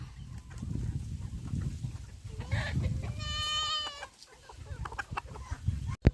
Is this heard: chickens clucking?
yes